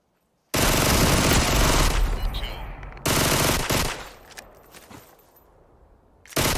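Automatic gunfire from a battle royale shooter game blasts in two loud, dense sustained bursts, with a rattling tail between them and a third burst starting at the end.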